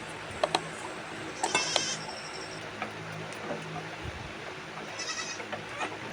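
A young goat kid being bottle-fed gives a few short, thin bleats scattered among handling clicks and shuffling, fairly close by with no one speaking.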